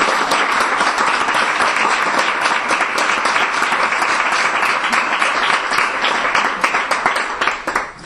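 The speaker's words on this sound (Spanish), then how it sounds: "quiero un aplauso" An audience applauds at a talk about hotel housekeepers, a dense sustained round of clapping that holds loud and steady for several seconds before tapering slightly at the end.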